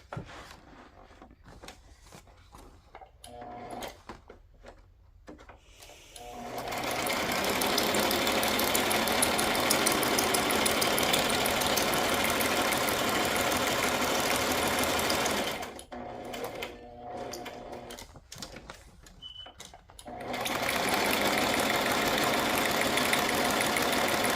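Sewing machine stitching in loud continuous runs, starting after a quiet stretch of fabric handling, stopping briefly partway, then running again steadily to the end.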